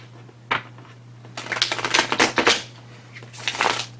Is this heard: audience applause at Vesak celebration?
no